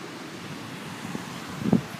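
Open-air ambience on a sunny day beside the Charles River: a steady wash of wind and water noise with a few soft thuds near the end, no voices.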